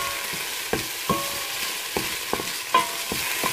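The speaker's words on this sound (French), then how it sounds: "on commence la recette par faire revenir l'ail et l'oignon" Garlic and onion fry in a pan with a steady close sizzle, punctuated by several sharp scrapes and clicks of a utensil stirring against the pan, with no talking.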